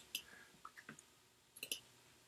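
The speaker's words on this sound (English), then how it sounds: "Now we do a right mouse click." A handful of quiet, sharp clicks sound in quick clusters against a faint room hiss, a computer mouse's right button being pressed on a Mac.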